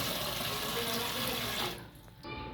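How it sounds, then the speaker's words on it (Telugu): Ordinary tap water pours steadily into a water filter pot, a loud continuous splashing rush that cuts off near the end, leaving a brief quieter trickle. "ఈ ఆర్డినరీ ట్యాప్ వాటర్ని దీంట్లో పోస్తున్నాం ఇప్పుడు."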